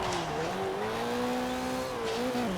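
Toyota Celica ST205 engine in Forza Horizon 4 pulling hard with steady rising and falling harmonic drone, a gear change midway, loud and continuous throughout.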